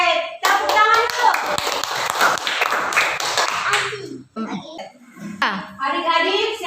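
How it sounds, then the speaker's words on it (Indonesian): Children clap their hands together in a classroom, with quick bursts of group clapping mixed with kids' voices, a cough and scattered taps, the clapping pausing briefly and then picking up again. "Oke, tepuk tangan dulu."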